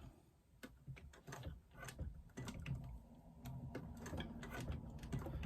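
A hand-cranked sewing machine stitching applique around a curve on a retro clutch strap connector, giving quiet, uneven mechanical clicks and thumps in short bursts, close by, with no talking.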